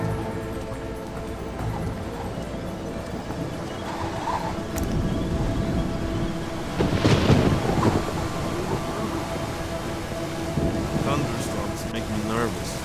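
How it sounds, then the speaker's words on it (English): A thunderstorm in Splinter Cell Chaos Theory at a lighthouse: a steady rainy, rumbling ambience that swells into a loud thunder crack midway, then settles back into the low storm background. "Thunderstorms make me nervous."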